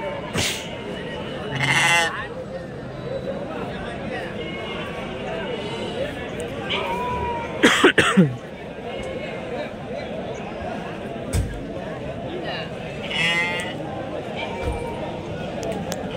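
Sheep bleating at a livestock market, a few calls heard at moderate distance, some of them loud, with people talking throughout and occasional hoof clatter in the busy background.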